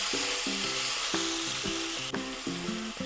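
Finely chopped potatoes fry with cumin and a bay leaf in a pan, giving a steady, close, hissing sizzle with soft stirring knocks over it.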